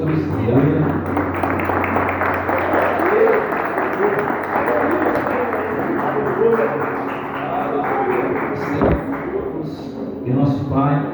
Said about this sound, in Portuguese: se você pode aplaudir o nome santo do Senhor Jesus